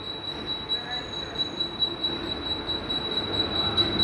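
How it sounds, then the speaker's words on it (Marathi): Mumbai local train pulling into a platform, a sustained high metallic wheel squeal ringing over a low rumble of the moving carriages, moderately loud and steady. "ही सायडिंगला गाडी होती आणि आत्ताशी लागते ती प्लॅटफॉर्मवर"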